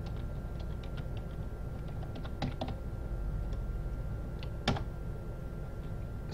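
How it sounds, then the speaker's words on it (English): Close computer keyboard typing while entering a command during a Hypixel Minecraft game, a run of light, irregular keystrokes with a louder key press near the end over a faint steady background hum. "I need to type in a command."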